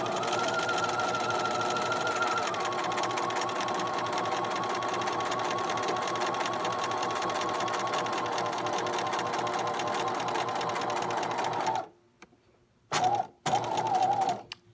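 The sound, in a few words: sewing machine stitching a sample waistband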